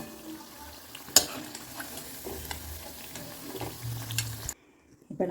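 Vada frying in hot oil gives a low, bubbling sizzle with scattered pops and clatters of a utensil, then drops off sharply to near silence before a brief return of noise.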